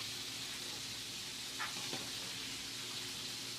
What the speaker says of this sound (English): you hear that beautiful sizzling? That means it's cooking.